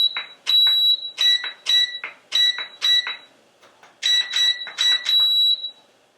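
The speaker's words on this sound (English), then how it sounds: "so that beep lets you know that we're centered" LiteHawk Neon radio transmitter emitting a series of short, sharp high beeps as the trim is adjusted, several quick tones in clusters with brief pauses, close and clear with no talking.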